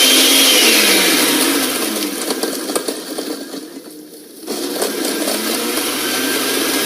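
A kitchen blender whirs loudly and steadily, dips briefly partway through as if the load shifts, then returns to a full, even drone with no voices.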